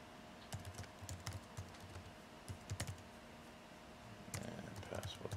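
Keys on a computer keyboard clatter in quick irregular bursts as an email address is entered. The typing is close and moderately quiet, with a steady room background.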